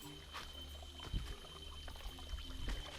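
Spring water at a Malaysian rainforest drinking spring pours into a bottle, a close, steady gurgling trickle with a few louder splashes, alone without voices.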